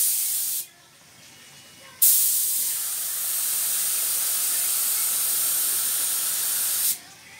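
A Tekiro K350 paint spray gun hisses in a steady, loud burst, stops briefly, then sprays again for several seconds before cutting off.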